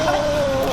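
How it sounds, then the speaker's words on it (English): A rooster on a farm gives a single short, loud, close cluck. "Oh, roosters are following."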